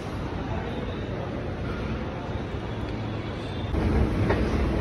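A metro train rumbles along with a steady low roar and faint wheel clatter, growing louder near the end.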